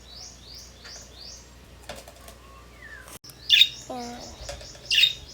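Pet lovebirds chirping in short repeated tweets with a few louder squawks and brief flapping, close by, while a person speaks briefly.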